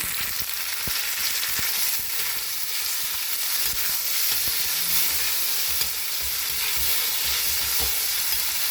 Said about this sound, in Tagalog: Gisahin na natin siya sa olive oil na may kasamang garlic, fresh garlic.